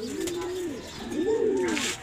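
Pet pigeon cooing at close range, two drawn-out rising and falling coos one after the other, fairly soft, with faint outdoor background noise.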